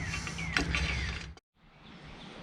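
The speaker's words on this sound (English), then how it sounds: "you can tighten this sucker down" Bolts are tightened on a rear rack fitted to a Suzuki V-Strom 1050XT motorcycle, making a close, busy mechanical ratcheting and clicking that cuts off abruptly, then faint background hiss.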